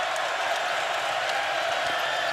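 A large basketball crowd at the Ferrell Center keeps up a steady, broad roar of cheering and chatter that fills the arena evenly without distinct peaks.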